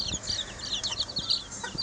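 Broiler chicks in a net-enclosed farm pen cheeping constantly, a busy cluster of high, rapid peeps, close and moderately loud.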